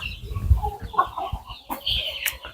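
Black Australorp chickens and roosters on a farm in Andijan cluck and call close by in a few irregular bursts, with one sharper, higher squawk near the end.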